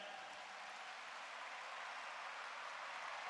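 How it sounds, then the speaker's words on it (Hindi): Steady, dense applause from a large gathering at an Arya Samaj event welcoming an honored guest, a continuous wash of clapping held at an even, fairly distant level throughout with no talk over it. "एक बार उनके यहां पधारने पर जोरदार तालियों द्वारा अभिनंदन।"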